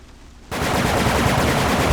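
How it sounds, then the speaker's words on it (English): Automatic gunfire from the video game Hitman Contracts erupts after a half-second lull, a loud, dense, rapid stream of shots continuing without pause to the end. "with auto fire on, every weapon becomes a machine gun"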